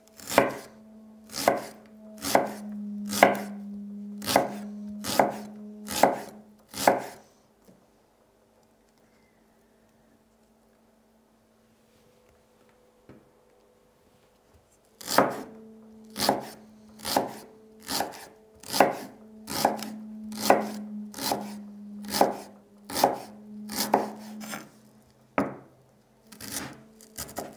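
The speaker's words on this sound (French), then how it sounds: "La manière dont elle coupe sa viande." A knife chopping chicken meat on a cutting board for teriyaki, a run of sharp rhythmic strokes, a pause of several seconds, then another steady burst of chops, close and loud.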